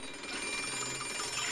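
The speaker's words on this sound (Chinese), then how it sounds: "每天早晨当闹钟叮铃铃地响起时" An alarm clock rings with a steady, continuous bell-like jangle that holds at an even level for its brief length, with no voices.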